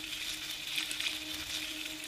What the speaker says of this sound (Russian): Жарим мясо.